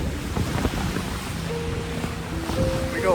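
Aboard an Oyster 565 yacht on a choppy sea with wind against tide, steady wind noise and rushing waves fill the scene, with faint tonal whistles rising near the end.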